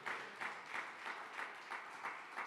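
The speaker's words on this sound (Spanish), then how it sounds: "Dele un fuerte aplauso a Dios." A church congregation claps in a steady, rhythmic applause for God, with evenly spaced hand-clap bursts about three per second, heard faint and at a distance in a large room.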